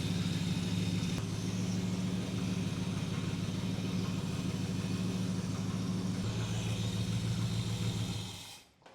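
A 1968 Dodge R/T found in a junkyard runs in gear without coolant. Its engine drones steadily and loudly up close with a low rumbling idle for about eight seconds, then cuts off abruptly. No one speaks.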